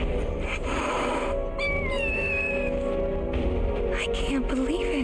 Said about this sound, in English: There's a whole bunch of cats here.